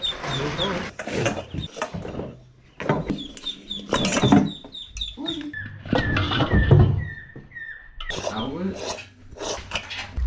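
Ducks brought home for a backyard pen give repeated high, thin peeps and calls, mixed with rustling and handling noise while people talk nearby.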